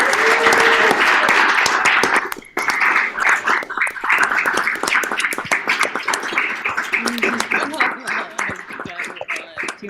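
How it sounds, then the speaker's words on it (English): Warm, dense applause and clapping for performers at an evening arts gathering, loud and close, a brief dip partway through, with cheers and laughter rising within the crowd noise. "let's show one more big round of applause to all the performers for such a"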